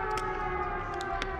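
A wailing siren drones steadily in the video game Dead by Daylight, a sustained layered tone with faint scattered thumps over it and no talk.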